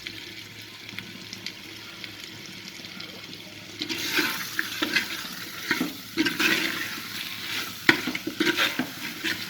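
Curry leaves stirred into a pot of country chicken curry (naatu kozhi kulambu): quiet hiss at first, then scraping, bubbling stir strokes with irregular wet clatter, close and moderately loud.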